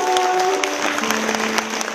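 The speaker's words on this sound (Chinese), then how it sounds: "我们再次用掌声哦" An audience at a sharing event claps for a prize winner, with brief, dense applause throughout while a voice carries over it early on.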